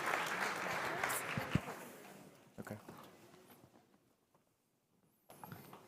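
An audience at a conference stage applauds the next speakers, with a broad swell of clapping that fades to near silence before a voice begins speaking.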